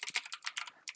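Rapid keystrokes on a computer keyboard, a quick run of crisp close clicks in uneven rhythm with no voice.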